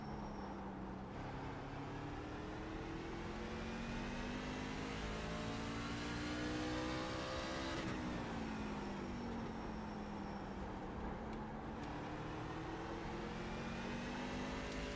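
A C-Fixed race truck engine revs hard in iRacing at Martinsville, a steady loud drone whose pitch climbs smoothly, drops briefly at a shift or lift, then rises again, continuous and unbroken with no talking.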